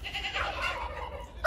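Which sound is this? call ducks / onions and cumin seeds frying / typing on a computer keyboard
call ducks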